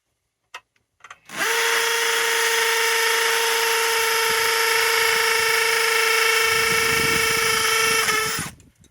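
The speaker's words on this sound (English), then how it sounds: "Switching on to hammer mode." A hammer drill in hammer mode starts up and runs loudly and steadily for several seconds, grinding into a house wall with a high whine, then stops abruptly.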